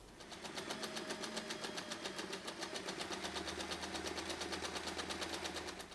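A sewing machine runs steadily, top stitching along the folded edge of a fabric pocket for a color block tote bag, giving a fast, even mechanical whir with a dense rhythmic ticking throughout, close and continuous.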